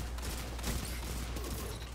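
A BXR-55 Battle Rifle, a pulse rifle in the Destiny 2 video game, fires in quick repeated bursts that come through faintly against a dense, noisy game mix, with no voices.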